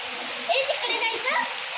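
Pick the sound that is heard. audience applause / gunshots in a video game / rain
rain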